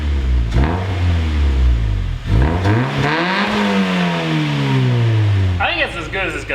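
A car with a new, slightly raspy exhaust is revved several times, each rise and fall of pitch loud and close, with people talking briefly near the end.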